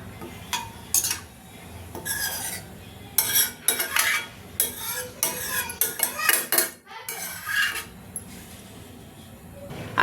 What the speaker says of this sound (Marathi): आता चांगले आपण हे मसाले मिक्स करून घेऊया.